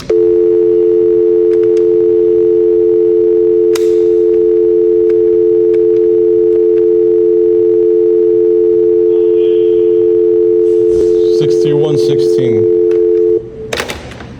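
A telephone dial tone plays as a loud, continuous steady hum for about thirteen seconds, with faint clicks and brief background voices near the end before it cuts off.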